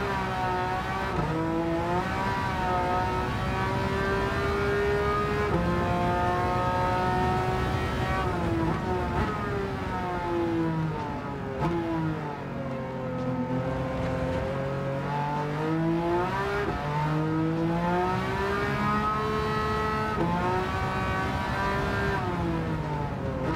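A VW bus race car in the video game Gran Turismo 7 drives hard, its engine revving up and down through gear changes with rising and falling whine, loud and continuous throughout with no talking.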